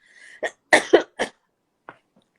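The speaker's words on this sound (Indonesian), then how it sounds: "Sampai batuk loh." A woman coughs several times in short, sharp bursts after a brief throat-clearing sound, then gives one softer cough after a pause, close to the microphone.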